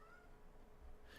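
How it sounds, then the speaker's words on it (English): A cat meows faintly in the background, one short quiet call behind a steady hum of music in a room. "Sorry if you can hear a cat in the background."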